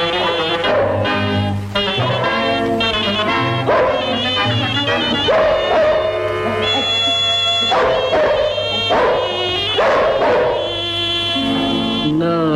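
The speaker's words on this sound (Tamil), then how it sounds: "வாய்ப்பாட்டு முடியும் முன்னே நாய் பாட்டு கேட்டேன் கண்டே" In a 1960s Tamil film love song, a dog barks and yips over the orchestral accompaniment, loud and mixed into the music throughout.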